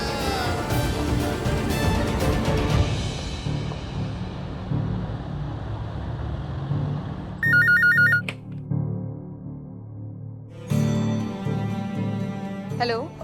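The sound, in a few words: telephone ringing while placing a call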